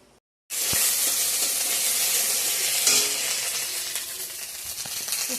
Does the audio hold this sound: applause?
no